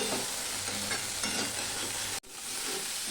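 Broccoli frying in mustard oil in a pan, a continuous bright sizzle with occasional stirring scrapes, close and fairly loud, cut by a brief dropout near the end before the sizzling resumes.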